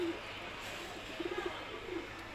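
Khaki pigeons kept by a pigeon fancier give soft, low coos, a short run of murmuring calls repeated in quick succession, fairly faint and close against a quiet background.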